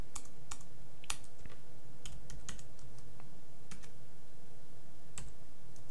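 Keys clack on a computer keyboard in short, irregular bursts of typing, crisp and close, over a low steady background hum with no talk.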